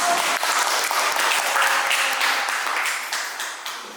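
Audience applause for a student presentation group in a university teaching session, dense steady clapping from a room of people, loud and sustained for several seconds before gradually thinning.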